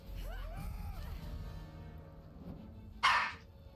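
Dogs bark a few times at the start in the video game Guardians of the Galaxy, followed by a loud, sharp crash near the end.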